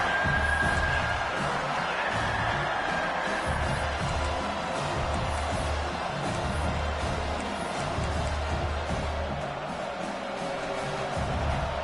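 Home crowd cheering in a football video game, a steady dense roar of distant stadium noise sustained throughout at an even level.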